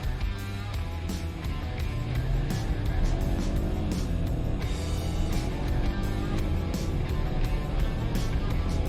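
BMW 320i accelerating hard in sport mode with traction control off: a loud, sustained engine roar rising in pitch through the gears, heard from inside the car with no talking.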